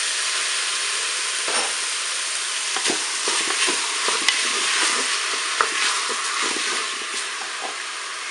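Tomatoes sizzle and fry in a pan for lasagne with courgette and beef, with a steady close hiss broken by scraping, clattering stirs throughout.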